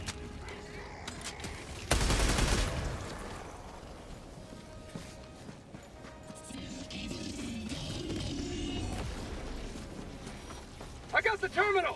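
Bursts of automatic gunfire from a mag dump in the Helldivers 2 video game on Helldive difficulty 9, a loud dense burst early on, then busy battle noise with talking over it and more sharp shots near the end.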